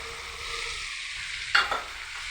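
Jaggery goes into a hot pan of Kerala mango pickle and is stirred, a steady close sizzle broken by one sharp scrape of a spoon against the pan.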